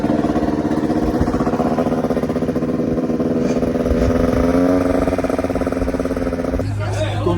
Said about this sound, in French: La petite moto que j'ai préparée